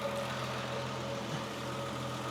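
Triumph 2500TC engine idling rich during carburettor tuning, a steady low rumble with an even hum, close and continuous, with no one speaking.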